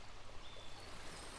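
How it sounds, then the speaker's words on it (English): River water flows steadily with a soft, continuous rushing and trickling, close and even throughout the brief stretch, with no voices. "he trotted beside it, listening to the sound of the water."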